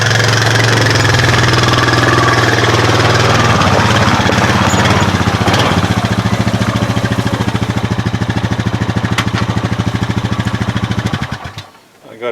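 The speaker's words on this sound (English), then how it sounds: "I'm going to go hit the 4-wheeler and we'll pull it out of here" A 4-wheeler ATV engine running close by, loud and rough with a steady knocking idle rhythm, settling and then cutting out abruptly near the end.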